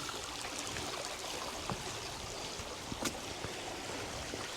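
A river stream flows steadily near a ruined Victorian mansion estate, a constant broadband wash of water with faint splashes, close and continuous throughout.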